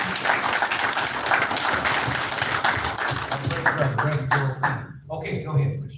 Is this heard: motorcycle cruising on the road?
no